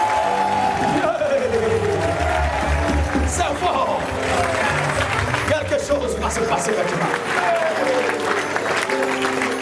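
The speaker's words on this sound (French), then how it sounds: "On acclame le Seigneur Jésus-Christ." A church congregation applauds and cheers in praise of Jesus Christ, with loud, sustained clapping and crowd noise throughout while someone speaks over it.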